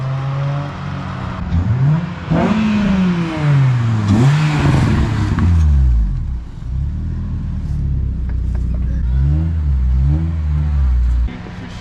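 An SR20 engine in a Nissan 240SX revs hard several times, its pitch climbing and falling in rising sweeps toward redline, then settles into a loud, rumbling idle with a few blips, close by and with no talk over it.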